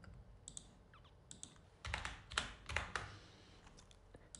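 Typing on a computer keyboard in short bursts of quick, crisp key clicks with brief pauses between, close and fairly quiet.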